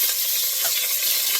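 Meat sears in a hot pan for a Budget Italian Sunday gravy, giving a continuous, fairly loud hissing sizzle with a brief stirring scrape near the middle and no talking.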